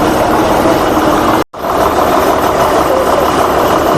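A long-route state transport bus on the Jalgaon–Sambhajinagar run idles at the Jalgaon bus station. Its engine drones steadily and loudly at close range, with one brief total dropout midway, and no talk.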